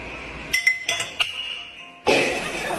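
Glass clinks several times in quick succession, then shatters in a loud, sharp burst of breaking glass that lingers to the end.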